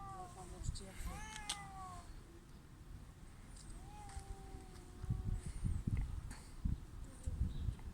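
A cat meows several times in rising, drawn-out calls, fairly close, with people chatting and moving around during the cries.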